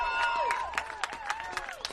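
A small contingent of Northern Tigers fans, together with the bench, coaching staff and players, breaks into applause and cheers at a women's football semi-final. The crowd noise is thin and a little distant, with sharp claps and whoops rising above it.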